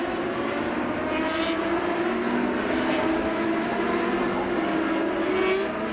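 Formula Renault 3.5 race cars racing at Oschersleben in 2005: a steady, droning engine whine with sustained harmonic tones that hold through the whole stretch, heard from a distance under continuous track noise.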